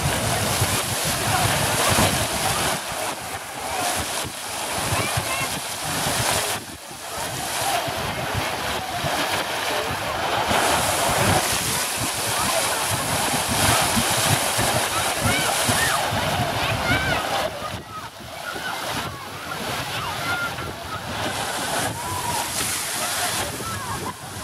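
Geyser erupting at Ixtlán de los Hervores, a steady roaring, sloshing rush of water and steam that continues loudly throughout, with faint crowd voices mixed in.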